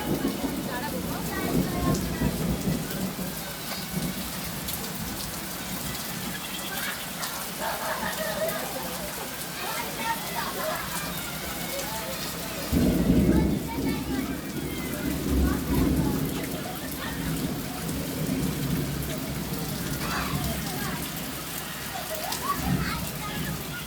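Rain falls steadily during a hot-season storm while low thunder rumbles and swells partway through, the downpour staying loud and near, and faint voices may sit underneath.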